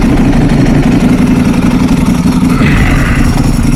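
2024 Ducati V4 SP2 916 motorcycle idling loudly and close just after start-up, a steady, lumpy low rumble with a throbbing pulse that swells slightly near the end.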